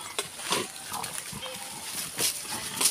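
Pigs oink and grunt in short, repeated snorts at close range, with people talking over the animal noises.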